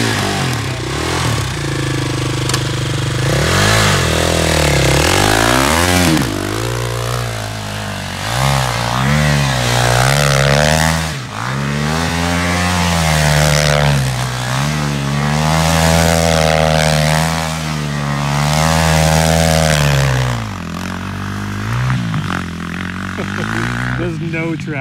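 A Yamaha dirt bike engine revs hard and close, its pitch surging up and down again and again through wheelie attempts on a loud, continuous run, with a voice heard at times.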